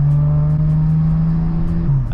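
A BMW G82 with an S58 engine and a stainless Valvetronic exhaust drones loudly at a steady low pitch close by, then the tone dips briefly near the end, with no talk over it.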